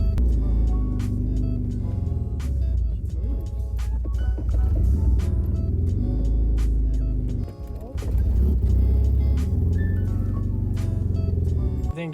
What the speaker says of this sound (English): And now she's holding an idle.